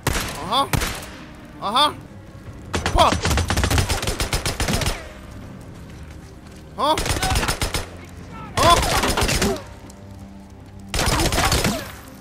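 Bursts of rapid gunfire from the Days Gone video game, several loud, sustained volleys of a few seconds each separated by pauses. A man mutters briefly between them.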